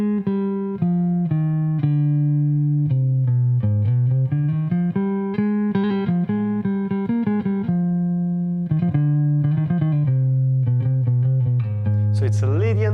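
Jazz guitar runs through a Lydian sharp 9 scale, sustained single notes stepping up and down in a steady melodic line, clean and close, with no talking over the playing.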